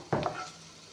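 Sliced onions frying in a pan for a milk-based curry, a brief scrape of stirring over a soft steady sizzle, close and fairly quiet.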